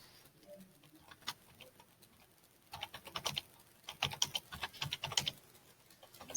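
Someone types on a computer keyboard in a quiet room, with sparse taps at first that build into dense runs of rapid key clicks.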